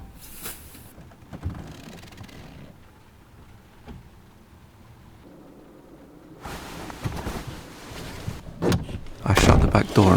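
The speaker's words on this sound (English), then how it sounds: "I shut the back door and locked it" A van's back door is shut and locked, heard as a few sharp clunks and rattles spread through a quiet stretch, with louder knocks and handling near the end.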